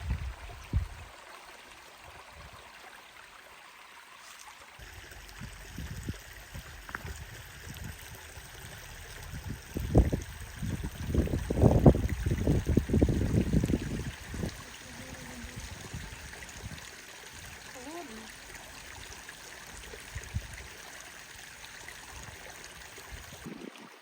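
A small mountain river in Oriavchyk flows steadily in the background, a soft continuous rush with louder bursts of splashing and footsteps in the middle as someone walks along the bank.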